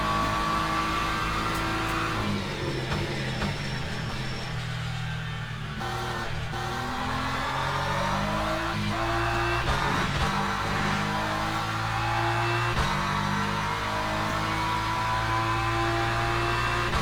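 AI-driven race cars in the Le Mans Ultimate racing game roar continuously, engines revving and shifting through gears with stepped pitch changes, loud and sustained without talking.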